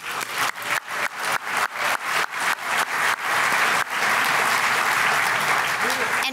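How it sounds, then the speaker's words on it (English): Audience at a leadership dinner claps, a few sharp separate bursts quickly swelling into steady, full room-filling applause that carries on to the end. "Please join me for a round of applause."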